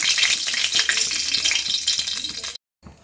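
Whole bay leaf and cumin seeds hitting hot oil for tempering, giving a loud, bright, crackling sizzle that continues steadily, then cuts off abruptly before resuming faintly.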